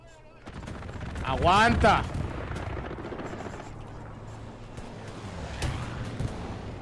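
Gunfire bursts in a simulation combat game, a dense volley near the start and a sharp shot later, over a steady rumbling background with someone shouting commands in Spanish.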